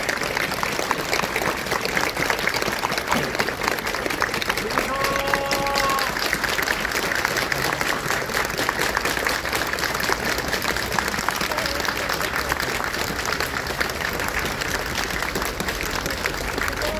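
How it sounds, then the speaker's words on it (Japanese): Warm, sustained applause from a crowd of shoppers honoring departing staff at the closing of the Ito-Yokado Fukushima store, a dense, steady clapping wash that fills the whole stretch without pause. "皆様からもぜひ温かい拍手を頂戴いただけないでしょうか"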